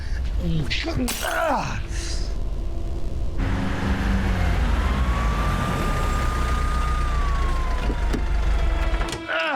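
A police car siren wails with a single long rising and falling tone, loud and near, after a burst of shouting and clatter, with people talking around it.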